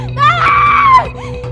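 A woman screams in one sustained, loud, high-pitched wail for help, close and alone, in a dramatic scene of being cornered in a deserted place.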